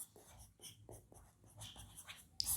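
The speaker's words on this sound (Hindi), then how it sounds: "मैं लिख देता हूँ" A pen writing out a history question by hand on paper, quick scratchy strokes in short bursts, close and quiet, with no talk.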